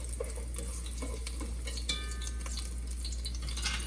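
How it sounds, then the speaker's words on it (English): Garlic cloves frying in oil in a pan for Vietnamese char siu pork bánh mì, a soft steady sizzle with faint stirring clinks beneath a constant low hum. "So we put a few cloves of garlic and some oil, and we're ready to cook the pork."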